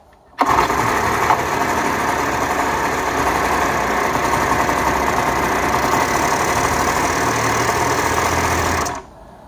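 A mini outboard motor, a barn find, catches on full choke with no throttle and runs steadily at a loud, even idle for about eight seconds before cutting off abruptly.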